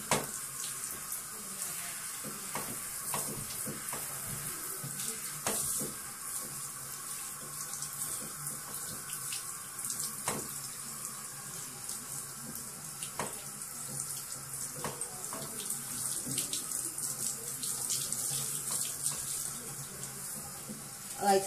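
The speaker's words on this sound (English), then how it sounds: "I like to make sure I'm soaking my hair." A tap runs steadily as thick dreadlocks are soaked and drenched during a hair wash, a constant close hiss of flowing water with small splashes and handling noises throughout.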